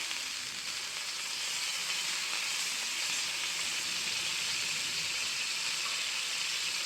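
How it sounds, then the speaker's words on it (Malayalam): Butter sizzles on a hot pan for a sandwich, an even, continuous bright hiss held steady from start to finish with no talking. "ചൂടായ പാനിലേക്ക് കുറച്ച് ബട്ടർ ഒന്ന് പുരട്ടി കൊടുക്കാം"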